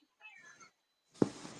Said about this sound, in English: You're hearing my cat.